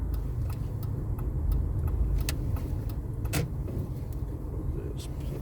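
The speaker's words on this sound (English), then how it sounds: "There's a car coming down the hill." A car comes down a hill on a Welsh road between Barry and Llanharan, a steady low rumble of passing traffic heard from inside a moving vehicle, with a few faint clicks and ticks over it.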